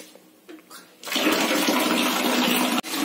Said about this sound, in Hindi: दोस्तों ये पानी भरा जा रहा है